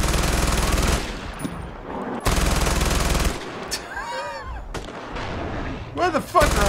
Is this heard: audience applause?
no